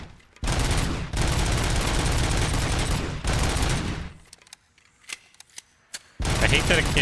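Automatic fire from the service weapon in the video game RoboCop: Rogue City: long, loud sustained bursts roar back to back, then a lull with scattered clicks and clanks before another burst starts.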